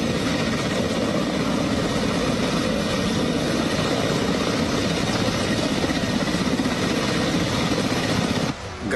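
A military helicopter carrying special forces flies a reconnaissance pass during a multinational naval exercise, its rotor and engine drone steady and loud throughout before cutting off abruptly near the end.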